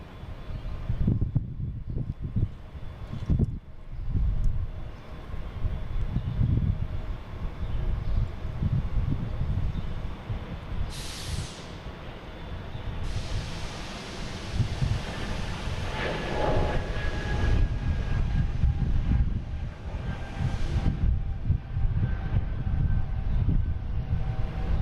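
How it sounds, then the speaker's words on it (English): A JetBlue Airbus A220 jet takes off at Boston Logan airport, a loud rumbling engine roar that swells and persists with gusty low-end surges and a rising whine, heard alone. "Next taking off is a JetBlue, an A220 heading to"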